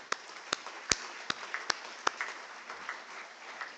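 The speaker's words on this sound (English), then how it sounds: "round of applause" An audience at a university foundation day ceremony applauds faintly, with scattered claps over a thin, distant wash of clapping from the hall.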